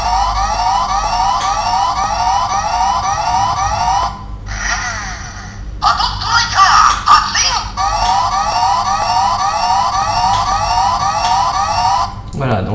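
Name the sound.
toy Patstriker vehicle siren sound effects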